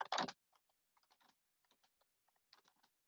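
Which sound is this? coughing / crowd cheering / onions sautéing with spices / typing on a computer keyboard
typing on a computer keyboard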